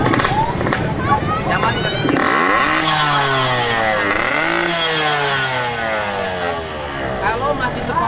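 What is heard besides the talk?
motorcycle with loud aftermarket exhaust starting and revving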